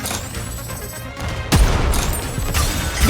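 Gunfire from the Nikke shooter video game: loud bursts of shots with a sharp crash near the midpoint, a dense, steady battle din throughout.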